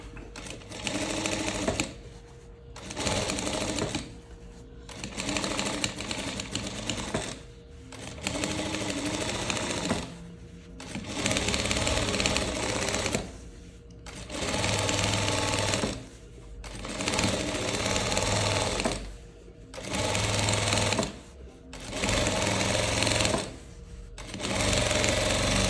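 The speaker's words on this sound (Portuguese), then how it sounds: "não costura sem eu estar olhando" A sewing machine stitches a leopard-print dress in repeated bursts of loud, rapid mechanical chatter, each lasting a few seconds and separated by brief pauses, close by and alone.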